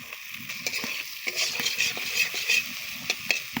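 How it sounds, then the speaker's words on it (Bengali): Potatoes sizzle and fry in a pan for an okra dish while a spatula stirs them, giving a steady frying hiss broken by repeated scraping and clinking strokes against the pan, close and moderately loud. "আলুগুলো দেওয়ার পরে ভালো করে নাড়বো"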